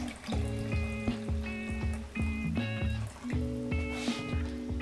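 Cooking liquid from a pan of chashu pork being poured into a jug, a soft, steady liquid splash and trickle running under prominent plucked background music.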